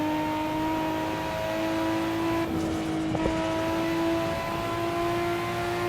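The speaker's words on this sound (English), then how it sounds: "It screams. It does not mind revving at all." A Nissan Skyline GT-R R34 in the racing game Assetto Corsa holds a steady high engine note, dips briefly as it shifts, then pulls back up to a loud, sustained rev.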